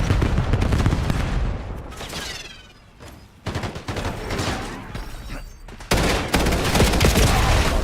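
Gunfire in the video game Syndicate: loud, sustained automatic bursts and heavy shots, close and dense, with a brief lull before the firing resumes even harder.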